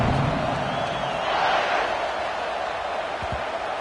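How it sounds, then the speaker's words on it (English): Football stadium crowd buzzing after a score, a broad, steady roar of many voices at a distance that swells slightly midway, with a commentator's voice faintly over it. "this crowd is buzzing after that last score"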